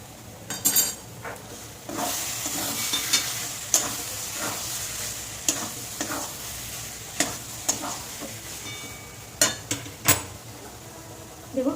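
Ghee sizzles in a pan while hilsa fish is cooked, with a steady frying hiss broken by sharp metallic clinks and scrapes of stirring against the pan.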